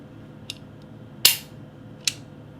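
A Czech Vz. 50 pistol chambered in .32 ACP is worked by hand. One light metallic tick comes first, then a loud sharp hammer snap, then another crisp click, each close and isolated in a quiet room.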